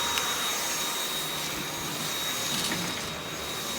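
A Dyson V8 Absolute cordless stick vacuum runs steadily close by, a continuous loud whirring roar with a bright high whine and no break.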